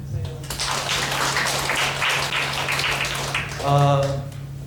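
A crowd at a church leaders' retreat gives a steady round of applause that fills the room for several seconds. A low electrical hum sits underneath, and a brief tonal sound rises near the end.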